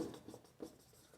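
Pen scratching across paper during a Class 9 maths lesson on laws of indices, quiet rhythmic strokes in short bursts, close and faint, with no talking.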